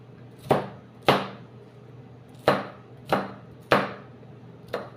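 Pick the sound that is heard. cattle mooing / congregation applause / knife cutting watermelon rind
knife cutting watermelon rind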